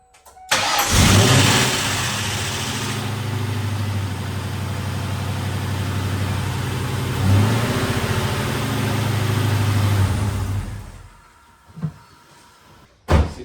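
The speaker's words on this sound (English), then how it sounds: "with any luck, it'll fire up and run correctly" A 1997 Ford Mustang Cobra engine, after valve train repair and a new O2 sensor, cranks and catches, then runs at a steady idle with a brief rev, before a few clicks and knocks as it settles.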